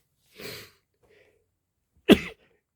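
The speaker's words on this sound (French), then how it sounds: "J'éternue." A single sharp burst of a human sneeze indoors, loud and close, with a fainter breathy sound a moment before it.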